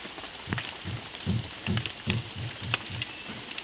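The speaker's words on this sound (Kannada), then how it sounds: "ಈಗ ಮಳೆ ಬೀಳ್ತಾ ಇದೆಯಲ್ಲ" Rain patters steadily, with soft rhythmic drips thudding at a regular pace close by and no voices.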